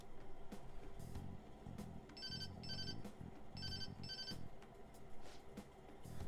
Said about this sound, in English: Oh, there's that social services call I was waiting for.